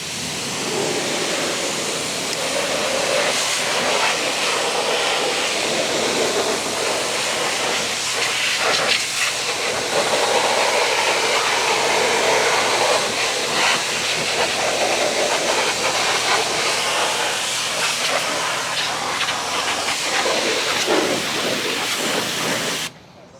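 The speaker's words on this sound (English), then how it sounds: "So if you like, you can rinse it off, yeah." Pressurized water spray rinsing a car wheel, a continuous loud close hiss holding steady for over twenty seconds.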